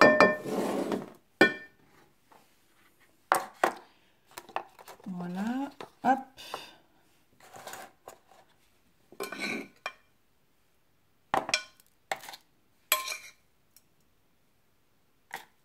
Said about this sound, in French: Et donc maintenant, on va mettre dans le moule à glaçons.